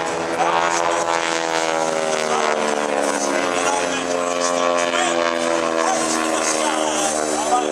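Propeller airplanes of an aerobatic team trailing smoke drone steadily overhead at the Dayton Airshow, a loud sustained engine roar with shifting pitch as they pass.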